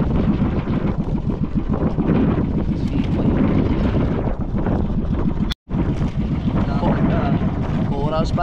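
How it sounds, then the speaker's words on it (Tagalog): Strong, gusty wind buffets the microphone aboard a boat at sea near corals during a lightning storm, a loud continuous roar with a brief dropout midway. "Lalo bang lumakas ang hangin oh."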